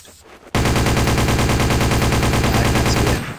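Continuous rapid automatic gunfire in the video game Counter-Strike: Source, zombie mode, begins abruptly and runs loud and dense for about three seconds before stopping, with no talk over it.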